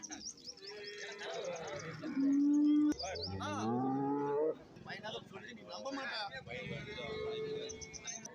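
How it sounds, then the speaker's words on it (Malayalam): Cattle at a buffalo market in Tamil Nadu give loud drawn-out moos, one long call standing out above the rest, amid a crowd of voices, bird chirps and general market bustle. "എല്ലാം നല്ല പശുക്കൾ"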